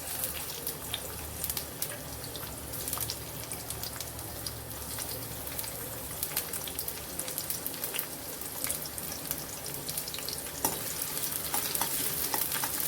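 Chopped onion frying in hot oil for a tempering, a faint, continuous sizzle with occasional stirring scrapes and no talk.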